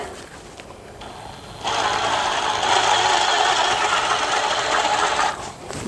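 A power drill drives a screw into wood during a toilet repair. After a quiet start it whirs up into a steady mechanical buzz that runs close by for several seconds, then stops.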